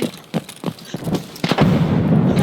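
A few sharp bangs, then a loud grenade explosion that booms and rumbles on, close and heavy, in Escape From Tarkov.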